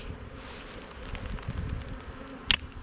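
A faint, continuous buzzing of Italian honey bees drones in the background, with a soft breeze and one brief sharp rustle near the end.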